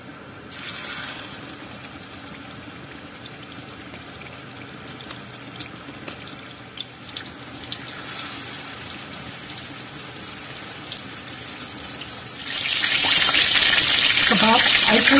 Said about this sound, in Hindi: यहाँ तवे पर ऑयल गरम हो रहा है, इस गरम ऑयल में ये कबाब डाल देंगे।